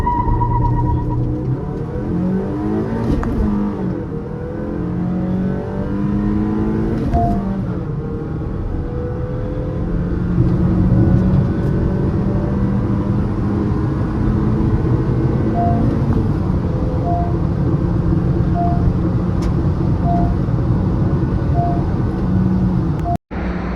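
A Honda Elevate and a 1.0 TSI Škoda Kushaq accelerate side by side in a drag race with traction control and AC off, a continuous close engine roar with rising and shifting whine.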